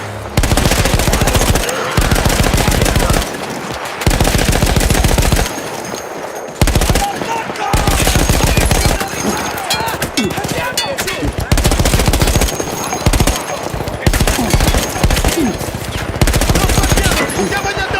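A machine gun in the World War I shooter Battlefield 1 fires in loud, sustained automatic bursts, close and heavy. Short gaps break up the firing, and voices are faintly present beneath it.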